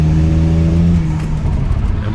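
A car with a BMW N54 engine driving under boost, a loud, close, steady engine drone with strong low harmonics that drops slightly and roughens partway through as the revs fall.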